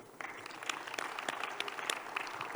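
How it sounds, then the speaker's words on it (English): Audience applause at the close of a panel session at a conference on the global economy and trade, a dense, steady wash of many hands clapping that builds after a brief quieter start and holds throughout. "We should be applauded, actually."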